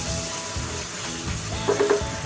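Fried pointed gourd and potatoes stirred into a spiced mixture in a pan, giving a steady close sizzle with soft scraping stirs and a few brief louder clinks near the end.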